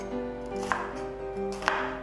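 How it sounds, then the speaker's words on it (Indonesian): An onion being chopped with a knife on a board: two sharp, distinct cuts about a second apart, close and clear over steady background music. "Yang pertama kita mau cincang bawang bombaynya"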